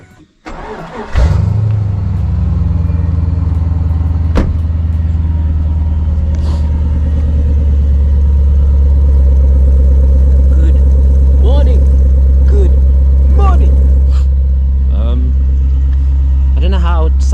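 A Chevrolet Lumina SS engine starts with a rumble and then idles steadily at close range on a farm road in South Africa, while a voice speaks briefly over it.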